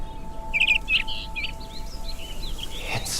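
A bird chirps in a quick series of bright tweets, loudest near the start and then trailing into softer calls, over a faint steady hum and light background noise.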